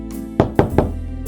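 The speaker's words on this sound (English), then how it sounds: "again, someone was at AH-moo's door" Three sharp knocks on a door, evenly spaced and close by, rising over a soft sustained musical backing during a children's read-aloud story.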